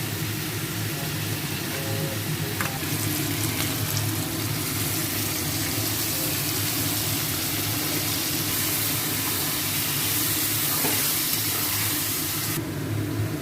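Spiced yogurt curry with pointed gourd, seasoned with garam masala and a little sugar, sautéing in a pan, giving a steady sizzling hiss with soft watery bubbling that runs unbroken and close, without any talk.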